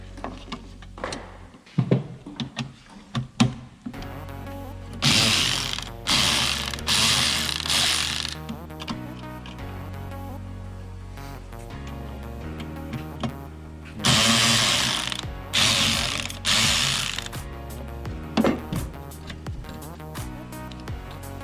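A ratchet works on T10 screws in a 2009 Cadillac CTS-V headlight assembly, close clicking bursts in runs with pauses and mechanical handling noises between them.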